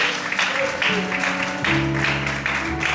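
A church congregation claps in praise during a Christmas sermon, the moderate applause mixed with sustained organ or keyboard tones and some crowd voices over three seconds.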